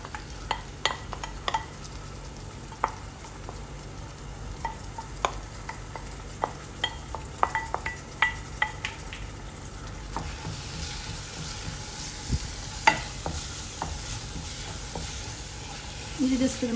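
Soaked, drained yellow lentils stirred in a pan with fried onions, a steady soft sizzle broken by frequent sharp clinks and scrapes of the spoon against the pan, with brief talk near the end.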